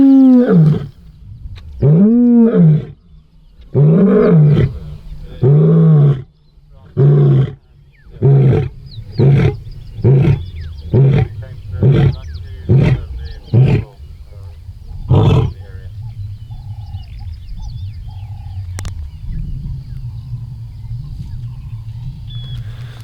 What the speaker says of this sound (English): the vocalizing like this, it's not just about advertising territory, it might also be calling to that lioness that he was mating with